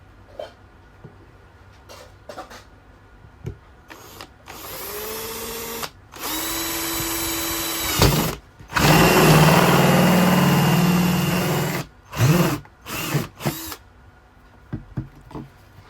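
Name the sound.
Izom cordless drill machine drilling a hole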